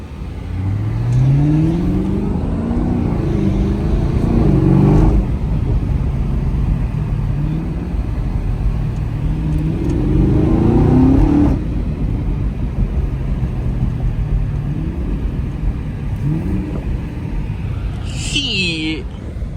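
A Chevrolet Camaro ZL1 1LE revs and accelerates hard in two loud surges, the engine rumbling up and easing off between pulls, with someone talking over it.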